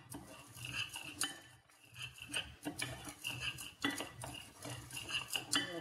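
Pollock he salad being tossed in a bowl: repeated scraping and light clinks of a utensil against the dish in an uneven stirring rhythm, fairly quiet and close, without speech.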